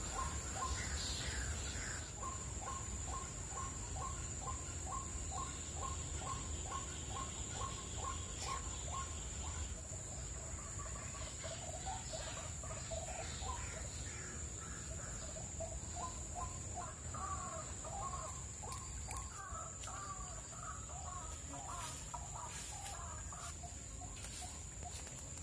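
Chickens cluck in rapid rhythmic runs and give repeated calls, moderately close, over a steady high insect-like drone and outdoor background noise.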